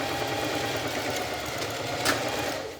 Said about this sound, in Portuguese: E sempre arrematando no início e no fim da costura.